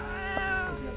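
A cat gives one drawn-out, tonal meow at close range, with a short higher cry in the middle, over a steady background hum.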